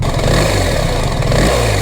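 A BMW R1300GS boxer-engine motorcycle, new and still in its running-in period, revs loudly and close by with a throbbing, slightly clattery drone.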